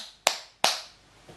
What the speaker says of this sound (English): let's show everyone you're clapping.